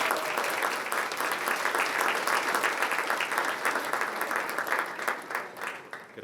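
An audience at a chamber of commerce annual meeting applauds with dense, sustained clapping that holds steady and starts to fade toward the end.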